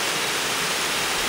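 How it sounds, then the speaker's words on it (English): A tiered waterfall about 25 feet high in Costa Rica pours with a dense, constant roaring rush, loud and close, with no talking. "the main waterfall here. It's a tiered waterfall of about 25 feet."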